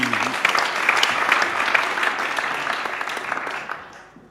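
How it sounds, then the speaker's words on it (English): Sustained audience applause at a cultural symposium plenary session, dense steady clapping from a large crowd that fades out toward the end. "Okay, round of applause."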